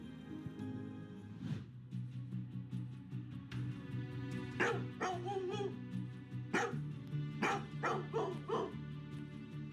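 A dog barks repeatedly in short bursts, several sharp barks and yips spread across the span over background music, fairly close and clear.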